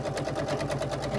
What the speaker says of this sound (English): And then you're going to take it to the sewing machine.